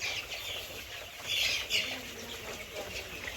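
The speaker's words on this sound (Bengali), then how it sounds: "আপনার সামনে যে মুরগিগুলো আছে এটা অরিজিনাল মিশরীয় ফাউমি মুরগি" Young Egyptian Fayoumi chickens, about 20 days old, on a farm in Tangail, with soft chirps, clucks and brief wing flutters scattered over steady background noise.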